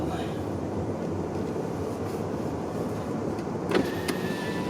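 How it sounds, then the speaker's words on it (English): Steady low rumble of road noise inside a moving car, constant and fairly loud, with a brief knock or rattle near the end. "This car is kind of a noisy car anyway. Has a lot of road noise."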